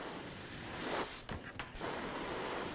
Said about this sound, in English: spraying the air just to make sure the paint dries